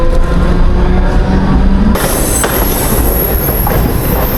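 A Mumbai local train from CST rolls along with a loud, steady rumble; a high metallic wheel squeal starts midway and holds to the end.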